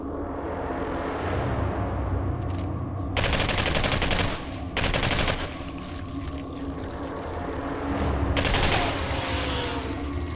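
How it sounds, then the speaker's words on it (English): Valkyrie assault rifle in the video game Singularity firing full auto, three loud sustained bursts of rapid gunfire separated by quieter gaps with a low background hum. "except the Valkyrie fires them full auto"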